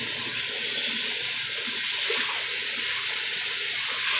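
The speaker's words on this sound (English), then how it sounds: "keep putting in more water until I get it filled up." Warm tap water runs steadily into a container while homemade laundry soap is being mixed, a continuous close hiss and splash with no break.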